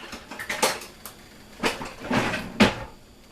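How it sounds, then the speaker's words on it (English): Spatulas clatter and knock as they are picked up in a kitchen, a few close, sharp utensil clanks spread out over a few seconds with quiet gaps between them. "Get my spatulas."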